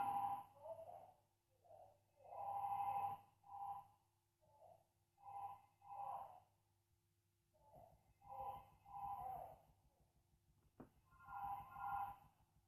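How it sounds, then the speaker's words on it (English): A phone ringtone plays in short melodic bursts that repeat several times over about thirteen seconds, fairly quiet against a low indoor hum, with no one talking. "So, oh, there's my phone."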